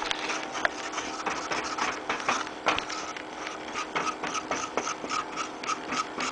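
A flour white sauce for a veggie lasagna is stirred in a pan, producing a continuous close scraping and rubbing with a faint sizzle and uneven strokes, no voices.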